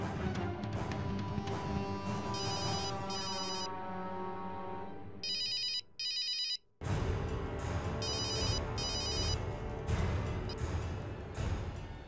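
Telephone ringing during an outgoing call in a French-dubbed TV drama, a repeating electronic ring pattern over background music, with a brief dropout midway.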